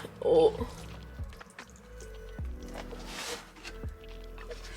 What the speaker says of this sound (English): I'm gonna water this imbricata.